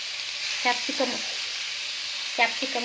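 Vegetables including carrot, cabbage, beans and capsicum frying in a pan for soup, a steady hiss of sizzling with a few brief stirring clatters, no talking.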